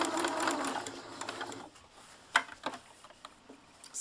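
A sewing machine stitches a small dollhouse miniature pillow, a close steady whirring run that stops, followed by a few sharp clicks and taps.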